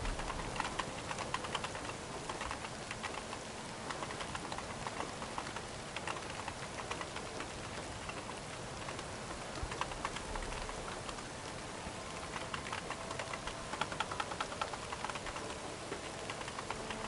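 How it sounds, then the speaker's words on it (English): Rain falls in a video game as a dense, even patter and hiss, with scattered light tapping droplets running steadily across the whole stretch and no voices. "Can't hear much over the rain."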